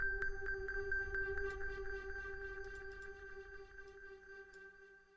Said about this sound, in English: It's just the reverb now, since we muted that.